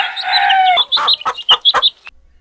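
A rooster crows with a long strained call, then a run of sharp, loud clucks follows in quick succession; the birds are close and no one talks.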